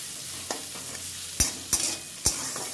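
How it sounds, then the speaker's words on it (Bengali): Sliced bitter gourd and potatoes frying in a home kitchen pan, a quiet continuous sizzle with several crisp spatula scrapes and taps at irregular intervals. "উচ্ছে আর একটু আলু দিয়েছি, উচ্ছে আলু ভাজা করছি"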